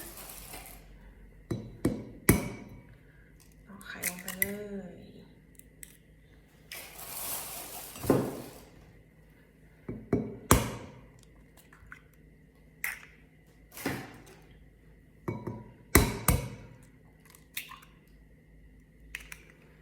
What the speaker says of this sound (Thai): ตอกไข่ใส่ลงไป วันนี้เราจะใช้ไข่4ฟองนะคะ